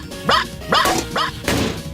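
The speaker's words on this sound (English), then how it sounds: "Robo-Puppy commencing 2-hour yipping session." Robo-Puppy, a cartoon robot puppy from Futurama, yips four times in a quick, even rhythm, sharp, near and loud with a slightly electronic edge.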